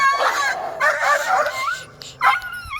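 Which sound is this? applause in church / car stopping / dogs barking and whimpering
dogs barking and whimpering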